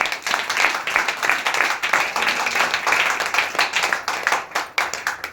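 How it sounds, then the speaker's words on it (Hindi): A room full of people claps hard together at a sales seminar, loud, fast, slightly uneven hand claps pulsing steadily for several seconds, with no one speaking over them. "एक बार जबरदस्त ताली।"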